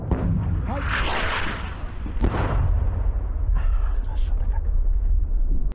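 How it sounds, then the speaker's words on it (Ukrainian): Artillery shelling during fighting around Bakhmut, Donetsk region, heavy booming blasts with rumbling low roar and debris, loud and close over several seconds, with someone speaking on a radio amid the noise. "По нам обстріл, як прийняв."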